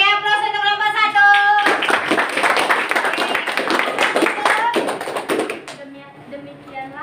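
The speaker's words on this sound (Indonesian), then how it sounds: "Oke, beri aplaus untuk kelompok" A classroom audience applauds a presenting group in a dense burst of loud clapping that begins after a short spoken line, holds for about four seconds, then thins out and fades.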